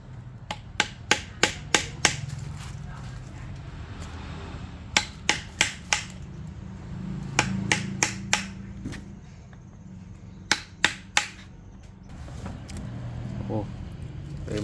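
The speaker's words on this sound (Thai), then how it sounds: "เดี๋ยวเรามาเจาะกันครับ" A hole is being worked into a large bamboo piggy bank made from old, mature bamboo: sharp, clustered tapping and knocking strikes in irregular bursts of three to five, close and crisp, over a steady low outdoor rumble.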